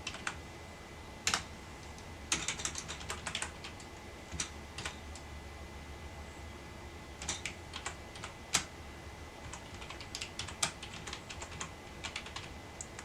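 Computer keyboard typing in scattered bursts of quick, light keystrokes with pauses between, near and fairly quiet over a steady low hum, while a network interface is configured on a Raspberry Pi 5.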